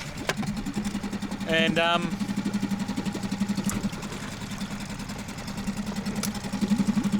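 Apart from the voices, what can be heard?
6 horsepower outboard motor running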